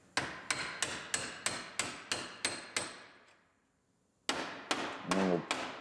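A hammer strikes a part on a wrecked Honda Civic Si in a series of sharp, evenly spaced metallic blows. After a brief pause, a few more hits follow at closer range.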